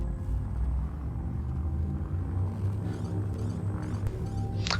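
Spaceship drive charging up in Elite Dangerous, a steady loud low rumble and hum that builds continuously, with a brighter rising whine swelling near the end.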